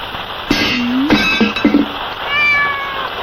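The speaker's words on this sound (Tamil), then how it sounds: "இந்த பூனை வேற பெருந்தொல்ல எதையாவது போட்டு உருட்டிக்கிட்டே இருக்கும்" A cat meows several times up close, a drawn-out call followed by shorter chirping meows and a final softer one, with a faint clink in the background.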